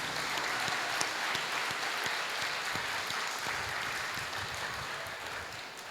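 An audience claps steadily and warmly for a devotional song to the Virgin Mary at a Tamil church gathering, a dense continuous applause that fades slightly toward the end.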